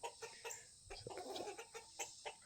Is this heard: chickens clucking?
yes